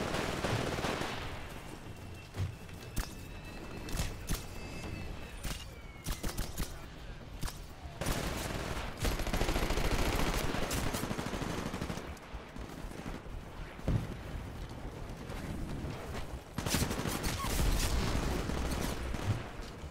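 Rapid bursts of smart gun fire from the video game Titanfall crackle in loud, dense volleys across an Attrition match, continuous and busy with brief gaps, accompanied by other combat effects.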